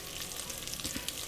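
Sausage browning in a pan with a splash of canola oil for jambalaya, a steady close hiss and crackle of frying with faint stirring, no voices.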